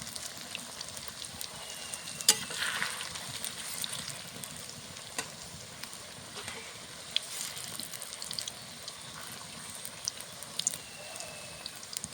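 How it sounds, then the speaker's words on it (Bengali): Steady crackling sizzle of bottle gourd kofta balls deep frying in hot oil, with occasional sharp pops and clinks of a utensil. "দেখো লাল লাল করে ভাজা হয়ে গেছে কোফতাটা"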